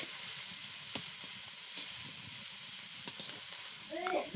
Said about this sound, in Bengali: ফোড়নে দেব শুকনো লঙ্কা কাঁচা লঙ্কা রসুন পেঁয়াজ